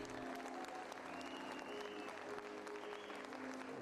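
Theater audience applauding steadily, a dense continuous patter of many hands clapping at moderate distance, with faint tonal sounds mixed in and no talk over it.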